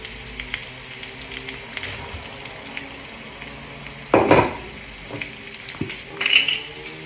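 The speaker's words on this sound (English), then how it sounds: "Onions and celery going in, sizzle, sizzle." Onions and celery sizzle softly in a pan, with a few louder scrapes and clinks of a utensil stirring against the metal.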